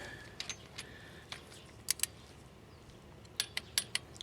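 Torque wrench clicking while tightening water pump bolts, a few sharp metallic clicks in two clusters, close by, with quiet gaps between.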